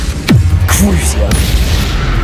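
In Hogwarts Legacy a Crucio curse is cast, a loud booming hit with swooping magical whooshes falling in pitch, followed by a sustained rumbling tail over the next two seconds.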